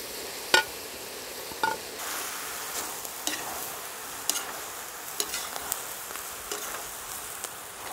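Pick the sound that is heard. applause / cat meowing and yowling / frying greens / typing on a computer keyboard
frying greens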